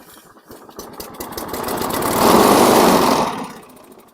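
A junk lawn mower engine sputters, catches and builds into a loud, steady run for a couple of seconds before fading back down, close by with no voices.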